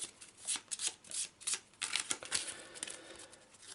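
Quick riffling of Arkham Horror game cards being shuffled up close, a series of crisp fluttering bursts with brief gaps between them.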